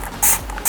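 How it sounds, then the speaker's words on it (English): Dawn Power Wash dish spray being sprayed onto a greasy air fryer in a sink: two short, close hissing bursts from a trigger sprayer, separated by a brief pause. "now I'm going to use the Dawn Power Wash, because this stuff is amazing at cutting grease, and just spray it everywhere"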